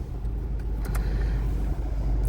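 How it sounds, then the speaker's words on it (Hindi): A 2012 Honda Civic Reborn engine starts and settles into a steady, low idle rumble heard up close, with a few brief clicks near the start and no speech. "ये इस गाड़ी का स्टार्टअप है।"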